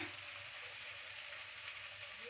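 Spices roasting in oil in a pan give off a soft, steady sizzle, faint and unbroken throughout.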